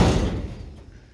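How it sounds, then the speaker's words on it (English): A garage door comes down with one loud, deep thud that fades out over about a second, heard alone. "let me get this garage closed"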